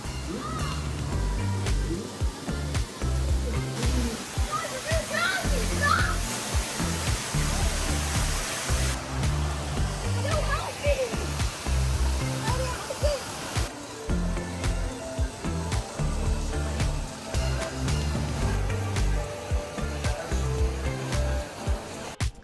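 Flowing water of a hotel lazy river at a Punta Cana resort, a steady loud rushing and splashing wash with irregular bursts, close by and continuous.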